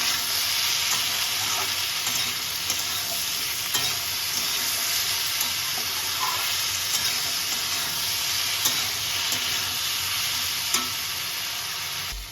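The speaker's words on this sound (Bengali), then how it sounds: "এবার এটাকে আমি ভালো করে নাড়াচাড়া করে নেব।" Fish fried in oil with turmeric and salt in a pan, a steady loud sizzle with soft scraping from stirring running throughout, close up and without talking.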